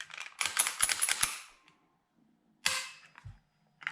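A Ruger LCP Max .380 pistol is handled and fired: a quick run of sharp metallic clicks and cracks, then a single loud report after a pause, close by.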